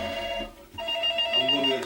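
A telephone rings indoors at night, a steady electronic ringing tone repeating over about two seconds, moderately loud with no talking.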